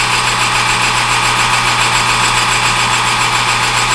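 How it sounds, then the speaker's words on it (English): A warped tip of an eBay headstock center is ground on a lathe with a CBN tool, producing a loud, steady motorized hum and whine that holds unbroken throughout. "It'll grind some off the tip."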